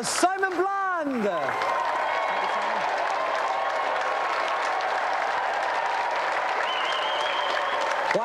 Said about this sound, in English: So let's have another round of applause for the triumphant challenger,